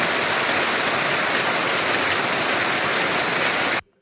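Heavy rain falls outside a village home, a dense, even hiss of downpour that holds steady and loud before cutting off abruptly.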